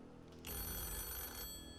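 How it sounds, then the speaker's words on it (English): The banker's telephone rings in a Deal or No Deal style video game, a bright electronic ringing tone that starts abruptly after a quiet moment, holds steadily for about a second, then cuts off. "Oh, why is he ringing back?"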